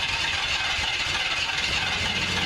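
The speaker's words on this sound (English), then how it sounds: "I can hear the engine has started on the bus" A bus engine idles at moderate volume with a steady low rumble and a faint rattle running throughout, alone with no voices.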